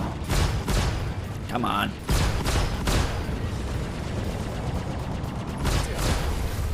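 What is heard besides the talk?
main cannons firing in the video game Star Citizen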